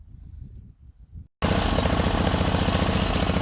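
Small single-engine Sears loader tractor running rough on both cylinders, loud and close: a brief muffled lead-in, a moment of silence, then a harsh, uneven, rapidly pulsing engine roar that continues steadily to the end.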